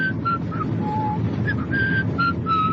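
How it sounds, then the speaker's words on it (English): Someone whistles a short melodic tune of sustained and clipped notes, fairly quiet against a faint steady background hiss. "I'll whistle this tune."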